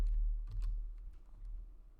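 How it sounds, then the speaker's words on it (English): Computer keyboard keys W, A, S and D pressed to fly around, a few soft close clicks and taps over a low background hum. "Using W, A, S, and D on my keyboard to fly around."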